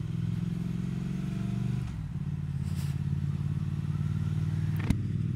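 A 2020 Triumph Speed Twin 1200 motorcycle engine thrums steadily while riding, a low, even parallel-twin burble that shifts pitch once as the rider changes gear, with a faint click near the end.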